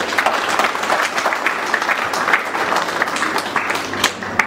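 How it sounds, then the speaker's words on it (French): An audience at an Air Madagascar corporate event applauds with steady, dense clapping for a few seconds, fairly close and continuous. "Je pense qu'on peut les applaudir."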